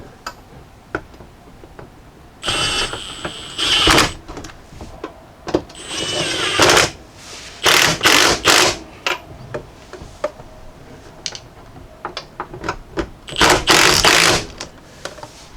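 A hand ratchet clicks in quick bursts while snugging the strut mount bolts on a 2016-2021 Jeep Grand Cherokee, close and crisp, with short pauses between runs of rapid ticking.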